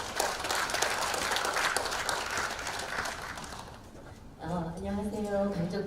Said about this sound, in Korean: 우리 강정미 선생님을 뜨거운 손뼉으로 맞이하겠습니다.